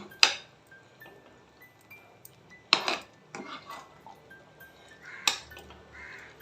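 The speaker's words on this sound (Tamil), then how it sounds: "கொஞ்சம் கொஞ்சமாக கலந்து விட்டுக்கலாம்" Rice mixed with coconut is stirred in a pan, the spoon striking the metal in three sharp, separated clanks with quiet scraping between them, close and otherwise calm.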